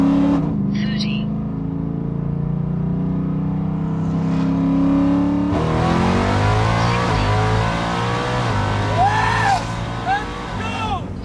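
A car in track mode with manual shifting accelerates hard from 60 to 130. The engine tone climbs loudly, a gear change comes about halfway, and it keeps pulling up again while people talk inside the cabin.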